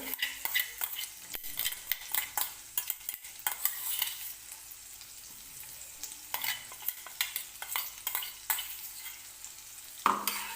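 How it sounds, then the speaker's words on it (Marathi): Finely chopped green chillies sauté in hot oil in a pan, giving a steady soft sizzle broken by repeated stirring scrapes and clinks of a utensil against the pan, heard close with no talking. "आणि व्यवस्थित मिरची जी आहे ती तेलामध्ये आपल्याला परतून घ्यायची आहे"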